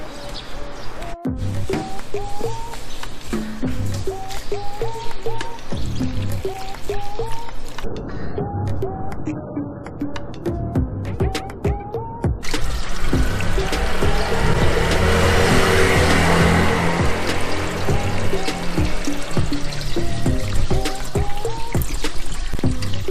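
Water from a garden hose splashes over the hood of a 2022 gasoline Toyota Corolla Cross, a steady close hiss and patter that grows louder partway through, with birds chirping in the background.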